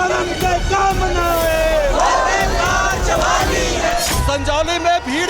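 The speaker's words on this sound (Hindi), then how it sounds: "अब ये भीड़ टनल की ओर बढ़ रही है और इनका कहना है कि ये संजौली में जाकर ही प्रदर्शन करेंगे।" A crowd of protesters in Shimla, women among them, marches toward a tunnel shouting and chanting slogans, many loud overlapping voices close by, rising in bursts throughout.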